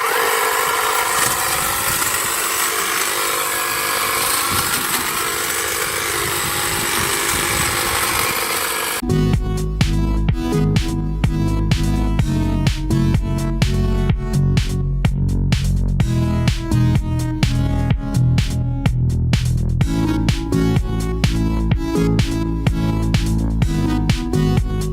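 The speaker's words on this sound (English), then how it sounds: "we're going to use the HSA 86 with the same battery we used in the blower earlier, just to give this guy a nice, neat, clean slice" A Stihl-style HSA 86 battery hedge trimmer running steadily after a quiet outdoor start, its buzzing motor with rapid chattering blades as it slices through bushes along a fence, loud and continuous.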